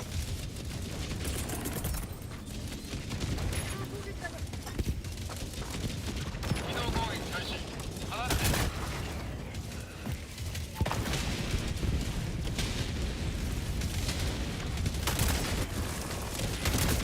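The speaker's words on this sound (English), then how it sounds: "See how good this walking barrage is." Walking barrage explosions in the Helldivers 2 video game form a dense, continuous wall of booms and crashes, with sharper blasts near 8.5 and 11 seconds, under mixed game noise and heavy rumble.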